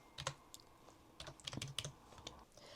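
Quiet, close typing on a computer keyboard, with irregular bursts of sharp key clicks and short pauses between them, and no voices.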